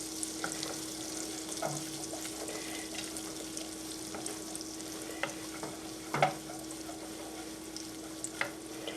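Butter sizzles softly as it browns in a pan, a steady low crackle with a faint hum and a few light stirring ticks.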